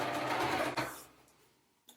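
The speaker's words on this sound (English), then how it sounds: "So now we're gonna sew on top of it." A sewing machine runs steadily for about a second while top stitching a seam, then fades and stops, leaving near silence and a small click at the end.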